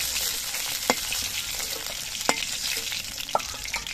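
Pieces of snakehead fish fry in a pan of oil with a continuous close sizzle, broken by a few sharp clicks and scrapes of stirring.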